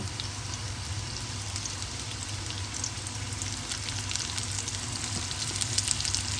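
Carrots and beans frying in a pan over high flame, with a steady, dense sizzle and crackle that stays loud and even throughout, along with a low hum underneath and no talking.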